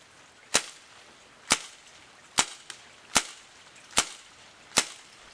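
A WinGun M702 airsoft revolver is fired six times at a target 68 feet away, each shot a sharp, close crack spaced roughly a second apart, with a faint click between two of them and no talking.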